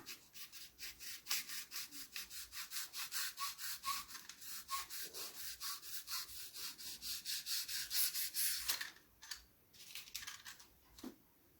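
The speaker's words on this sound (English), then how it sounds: "Optionally, you can finish with sanding paper." Rhythmic back-and-forth rubbing of sandpaper, close and steady strokes repeating about twice per second before slowing and stopping.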